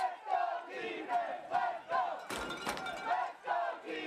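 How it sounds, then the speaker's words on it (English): A crowd of fans at a youth under-14 football game, chanting and yelling in repeated rhythmic bursts of shouting voices, moderately loud with a couple of thumps partway through. "you can definitely see those U16 fans of Heronia have joined the crowd here"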